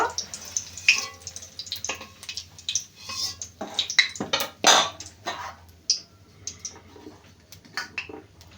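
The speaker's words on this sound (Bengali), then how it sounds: "এই পনির ভাজার তেলের মধ্যে গাজরগুলো ভেজে নেব।" Long carrot strips hit oil left from frying paneer, setting off bursts of sizzling spatter mixed with sharp utensil clatter and pan knocks, uneven and close.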